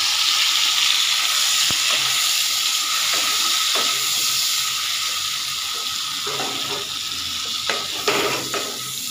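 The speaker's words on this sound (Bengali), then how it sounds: "এই যে এখানে প্যানে তেল দিয়ে দিছি।" Oil sizzles steadily in a frying pan, heated for frying pointed gourd, with a constant close hiss broken by occasional light clicks and stirring sounds.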